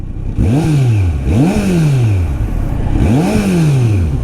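A Kawasaki Z900 on its stock exhaust revs three times, each rise in engine pitch sweeping up sharply and then easing back down, loud and close with no talking.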